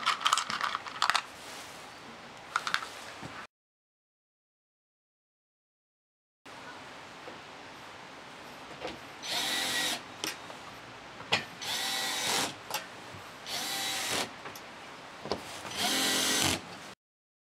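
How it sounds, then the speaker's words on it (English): Power tool driving flat-head screws into a metal rail while assembling a Keter storage shed, with several separate short bursts of whirring after a brief gap, close and moderately loud. "That then goes in there and it's fixed again using the flat-head screws."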